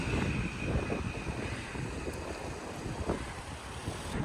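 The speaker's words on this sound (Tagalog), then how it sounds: "Lakas ng hangin, no?" Strong, cold wind gusts outdoors on a sunny day in Busan, buffeting the microphone with a steady roar and rumble. There is no talk.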